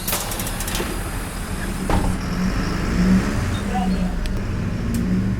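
Busy city street traffic in Bogotá, Colombia, with buses and cars rumbling steadily nearby, a brief heavier engine surge partway through and faint passing vehicle noise throughout.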